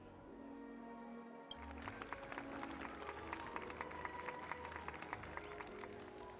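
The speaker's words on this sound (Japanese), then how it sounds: "一緒に温かい拍手と心からの感謝を送りましょう" Applause from a ceremony crowd in the video game Honkai: Star Rail breaks out suddenly over a sustained musical backdrop, a steady patter of many hands clapping that continues evenly to the end.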